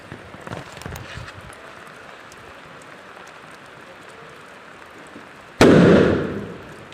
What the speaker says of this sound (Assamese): কোনেওতো বোমা নামাৰে বৰষুণত, ময়ে এটা মাৰো।